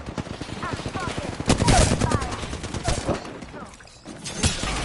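Gunfire in the video game Apex Legends: rapid bursts of automatic shots and scattered single cracks crowd together, loud and close, with voices talking over the fight.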